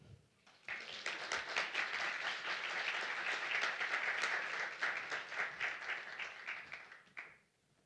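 Audience applause greeting poet Claire Wahmanholm at a poetry reading hosted by the Boutelle-Day Poetry Center at Smith College: steady, dense clapping that swells quickly, holds for about six seconds, then fades out.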